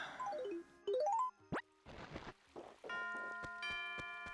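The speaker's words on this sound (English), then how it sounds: "And there's the midnight bell." Midnight bell chiming in the Animal Crossing video game on Toy Day, Christmas Eve: rising and falling sequences of bright electronic tones, a few plops and swooshes, then sustained bell-like chimes ringing close and clear with no talk.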